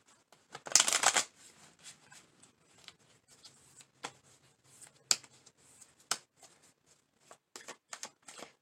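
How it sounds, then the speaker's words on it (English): Tarot cards shuffled with a quick riffle burst, then scattered soft taps and flicks as the deck is handled, close and quiet. "Shuffle again."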